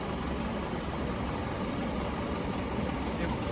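An SML truck's engine idling in a garage, a loud, steady, unbroken rumble throughout while someone talks over it.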